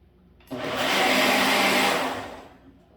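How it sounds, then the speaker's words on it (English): A blender puréeing tomato soup starts abruptly and whirs loudly at high speed for about two seconds, then winds down. "I'm just going to pour this batch into the blender."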